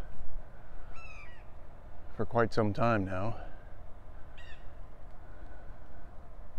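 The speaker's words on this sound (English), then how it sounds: "there's a blue jay and there's a red-tailed hawk that has got all the birds" A blue jay and other birds call in the woods, a burst of harsh, raspy cries clustered midway with a few fainter calls before and after, while someone speaks briefly.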